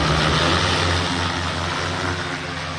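An agricultural spraying drone working over a wheat field gives a steady, loud mechanical hum with a strong low drone, continuous and unbroken, with no talk.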